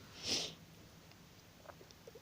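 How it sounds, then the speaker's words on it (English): A single short, breathy sniff near the start, followed by quiet room noise with a few faint clicks. "Sorry, I'm sniffling a little bit"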